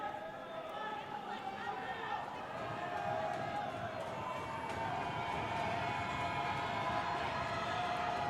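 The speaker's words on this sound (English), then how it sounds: "The crowd's going crazy. Everyone on their feet, making noise." Basketball arena crowd from a California vs Mercyhurst men's game, standing and roaring in a steady, dense wall of cheering and noise, with a commentator talking over it.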